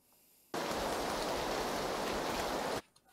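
Steady rain in a video game match pours in as a dense, even hiss that starts suddenly, holds constant for a couple of seconds, then stops abruptly.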